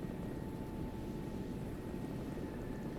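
A military helicopter in a video game drones steadily with a dense, constant rotor and engine rumble, loud and unbroken, with no voices over it.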